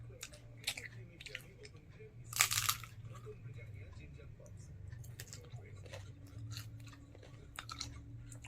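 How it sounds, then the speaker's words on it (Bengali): Fuchka (pani puri) stuffed with potato being eaten, close soft crunching and wet chewing with a sharper crunchy bite near the middle, steady low background hum underneath. "জাস্ট আলু দিয়ে ফুচকাটা খাচ্ছি"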